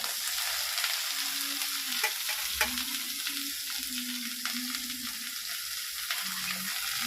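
Tomatoes frying with onions and coriander in a pan, a steady close sizzle with occasional stirring scrapes and soft clinks, no voices.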